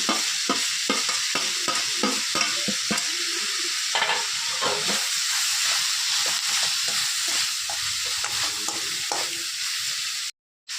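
Onions sizzle and fry steadily in a pan while grated coconut is stirred in, giving a close, continuous hiss broken by repeated scraping stirs, with no talk, before a brief drop to silence at the end.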